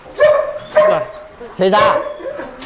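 Male Malinois dogs barking at a kennel in Vietnam, three loud close barks in quick succession with a short voice in between.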